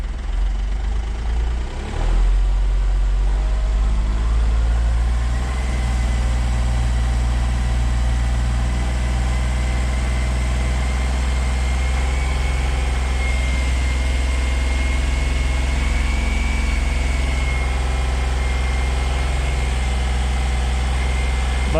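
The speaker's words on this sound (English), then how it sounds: "But it's making boosted idle." A Smart Fortwo diesel engine idles steadily with boost after a turbo cartridge replacement, producing a loud, close, continuous low rumble with a faint higher whistle running through it.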